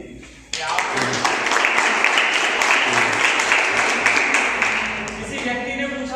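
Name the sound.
audience applause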